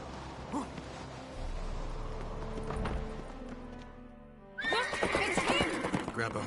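A horse in The Witcher 3 video game gives a loud, close neigh near the end, after a stretch of hoof clatter and background game ambience; a brief voice is heard early on.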